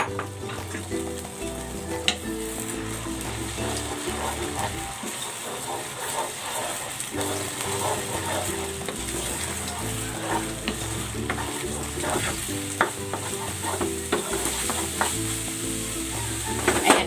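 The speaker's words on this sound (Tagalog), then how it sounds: "Maglalagay ako ng cooking oil. Ayan, lulutuin ko muna ng bahagya itong egg." Egg frying in cooking oil in a pan for scrambled eggs, giving a steady, close sizzle and hiss with scattered spatters and pops throughout.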